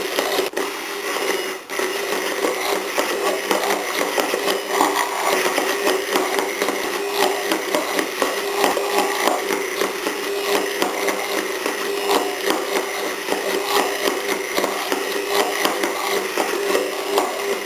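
A blender whirs steadily as oil is worked into French aioli, the motor whine dense and continuous for the whole stretch with no talk over it.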